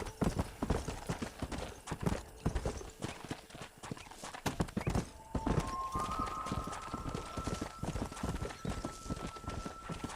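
Steady clip-clopping horse hooves in the video game Red Dead Redemption trot through the whole stretch, dense and rhythmic, with a brief whinny-like tone partway through and faint background sounds.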